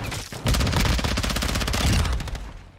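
Fast automatic fire from the VEL 46 submachine gun in Modern Warfare 2, a loud continuous close burst of rapid shots lasting about two seconds before trailing off, with no voices.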